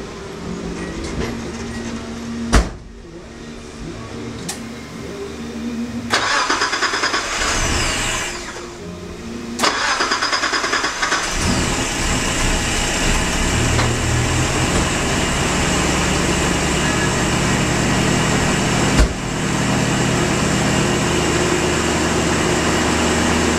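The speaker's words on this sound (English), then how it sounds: "We'll try to start her up and see how it goes." A Nissan Hardbody pickup engine, after a throttle body coolant delete, cranks and catches, then settles into a loud, steady, broadband idle that runs on close by with occasional knocks, and no talking.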